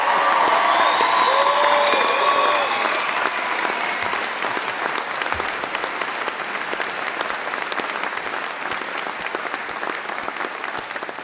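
A full hall at a Faculty of Arts, Design and Media awards ceremony claps for Eleanor; loud, dense applause runs throughout, with a speaking voice heard over it early on before the clapping continues alone.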